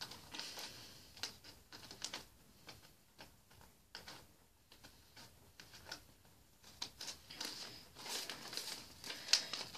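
Quiet, close snipping of scissors cutting around a sticker, a series of small irregular clicks and cuts with short pauses between them.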